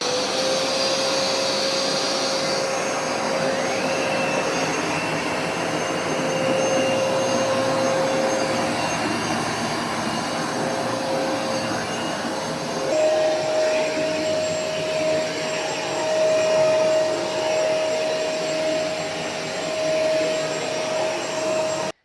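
A Vax Platinum SmartWash carpet washer runs steadily and loudly throughout, a continuous motor whine and suction roar whose tone shifts pitch partway through as it switches between wash and dry modes.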